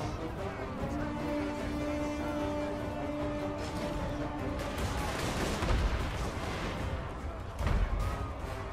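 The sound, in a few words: cannon fire in video game Total War: Warhammer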